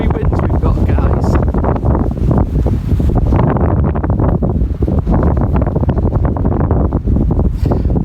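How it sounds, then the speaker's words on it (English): Blustery Storm Arwen winds buffet the microphone at a campsite with tunnel tents, a loud, constant low roar with gusting rumble throughout and no clear pauses. "It's the blustery winds we've got, guys."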